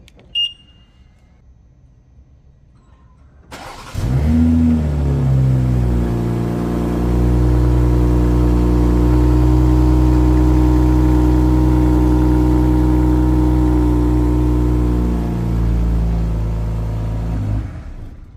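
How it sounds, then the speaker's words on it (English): A 2023 BMW X6 xDrive40i cold-starts remotely after a few quiet seconds, firing up with a loud rising flare, then holding a strong, steady high idle before dropping off near the end. "let's do a little remote engine start, cold start"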